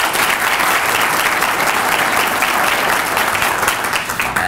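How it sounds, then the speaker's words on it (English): An audience at a Chester County event applauds the candidates, with steady, dense clapping that fills the room and stays loud and even from start to finish. "Let's give them a round of applause."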